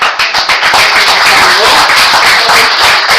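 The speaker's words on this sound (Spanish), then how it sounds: "Le damos un fuerte aplauso a nuestro querido don David." An audience applauds for don David at a Guatemalan spiritist gathering, the clapping dense and loud and sustained across the moment, with some voices mixed in.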